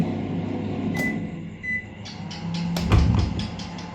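A microwave oven hums steadily while grilling chicken inside, with a couple of brief beeps and a clunk near the end, close and fairly quiet.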